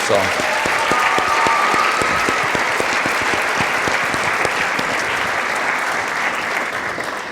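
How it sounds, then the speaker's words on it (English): Sustained applause from an audience at a Distinguished Young Women scholarship program honoring guest performers, a steady loud wash of clapping with sharper individual claps throughout, gradually tapering slightly toward the end. "how about one more round of applause for our special guest performers?"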